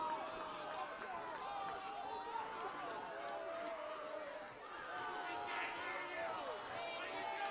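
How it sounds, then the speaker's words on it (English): A crowd at a high school boys soccer game at Hanlon Field roars steadily after a goal, a sustained distant wash of cheering and shouting with a commentator talking over it. "this Lancer crowd is in a frenzy"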